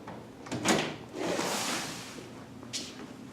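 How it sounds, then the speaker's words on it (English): Large studio doors are opened, giving a couple of sharp knocks followed by a broad rushing slide and a final light thud, fairly close with no speech. "And then these doors here open up."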